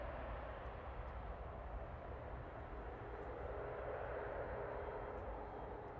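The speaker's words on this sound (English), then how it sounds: "Swiss Flight 381 there for operated by Helvetic, heading back to Zurich, HB AZD, E190 E2" Helvetic Embraer E190-E2 jet on Swiss flight 381, heading to Zurich from Manchester Airport, gives a steady, faint engine roar and rumble from some distance, with no voices.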